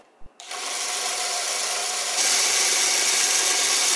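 A Lego motor switches on after a click and drives a geared fan, spinning up into a steady, loud whirring buzz that climbs a step higher partway through and holds.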